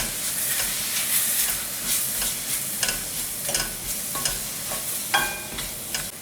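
Ground masala sizzling and frying in a pan for a coconut-milk chicken curry, with steady hiss and repeated scraping stirs throughout, close and fairly loud.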